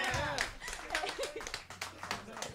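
Applause at a college original music showcase in a showroom, a few close, irregular hand claps mixed with chatter and light laughter from the crowd.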